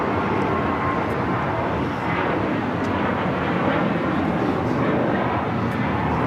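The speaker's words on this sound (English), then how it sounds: "China Airlines, the A350 on short final for 2-4 right" A China Airlines Airbus A350 airliner on short final to runway 24 right at LAX roars in a broad, steady engine rumble that holds loud and unbroken throughout.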